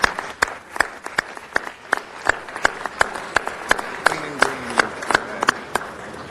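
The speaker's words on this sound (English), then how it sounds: "give me a round of applause" Applause in a city council chamber as flags depart, with sharp, regular claps standing out close and loud over a broader background of clapping, keeping an even rhythm throughout.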